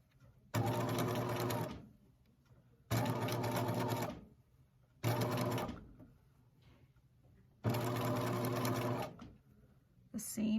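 A sewing machine back-tacks stitches on fabric in four short, fast whirring bursts separated by pauses, close and clear, with another burst just starting at the end.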